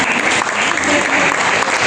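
A church congregation at a worship service applauds, a short burst of dense, loud clapping close by throughout.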